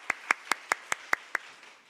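A church youth worship congregation clapping in unison, seven sharp, evenly spaced claps in quick rhythm, clean and close, fading out afterward.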